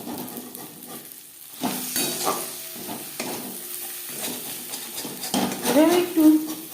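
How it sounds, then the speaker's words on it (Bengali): A spatula stirs fish oil and spring onion chorchori in a pan, giving close scraping strokes and light clinks over a soft, steady sizzle. "এভাবে একটু নাড়াচাড়া করে দিতে হবে, নাহলে তলা লেগে যাওয়ার সম্ভাবনা থাকতে পারে"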